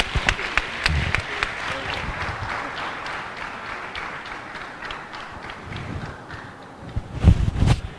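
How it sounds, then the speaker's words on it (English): Steady applause from a large audience fills the room, with a few louder claps and thumps near the end. "Another round of applause, ladies and gentlemen"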